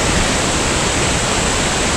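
A waterfall in the Rocky Mountains of Alberta roars as a loud, steady broadband rush of falling water, close and continuous with no pauses.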